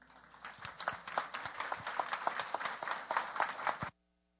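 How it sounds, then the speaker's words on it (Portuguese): Audience applause in a Brazilian philosophy café lecture hall, dense steady clapping of a sizeable crowd welcoming a lecturer to the stage, lasting about four seconds before stopping abruptly. "Vamos recebê-lo com um aplauso."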